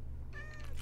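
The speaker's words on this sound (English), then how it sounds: "Oh, kitty." A single short cat meow in the Minecraft video game, a brief rising-and-falling mew over a low background hum, fairly quiet.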